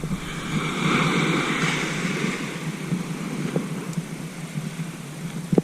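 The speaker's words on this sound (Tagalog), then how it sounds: "malakas ang alon" Rough water churns and splashes continuously at a beach in Tanza, Cavite during a typhoon, with wind noise buffeting the microphone, the surge strongest early and then holding steady.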